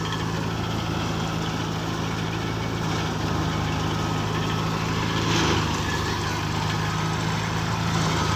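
A tractor engine idles steadily nearby during a wheat harvest, a continuous low rumbling hum that barely changes over the whole stretch.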